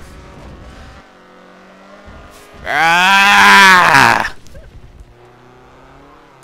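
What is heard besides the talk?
Ford Fiesta driven at full throttle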